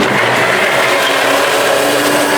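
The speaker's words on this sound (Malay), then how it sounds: "Yang putihnya ambil untuk kita kisar." A blender grinding the white part of lemongrass in a steady, loud, continuous whir with no breaks, close up.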